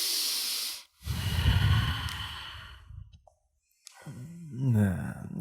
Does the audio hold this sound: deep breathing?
yes